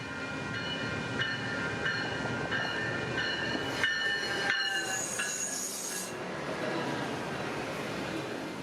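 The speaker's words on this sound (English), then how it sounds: "These crossing signals are built by a company called Western Cullen Hayes and have the very distinctive electronic bell" A Western Cullen Hayes electronic bell at a Sonoma-Marin rail crossing rings in a quick, steady repeating pattern over a rumbling background, then fades as a broader, noisier rush takes over.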